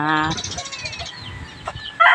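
Chickens cluck and cackle nearby in short, choppy bursts, with a higher squawk at the start and another rising call at the end.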